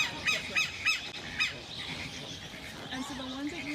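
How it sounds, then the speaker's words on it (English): Scarlet ibises in a backyard enclosure give a run of short, sharp honking calls, several spaced squawks followed by a rougher, lower call as the birds stay close. "They're scarlet ibises."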